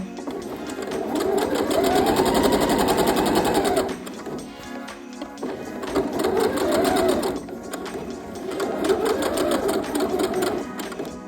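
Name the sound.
sewing machine back-stitching a denim dress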